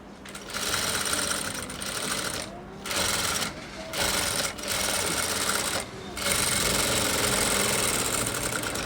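A sewing machine stitches a blouse in loud, steady runs of mechanical whirring, with several short pauses between bursts.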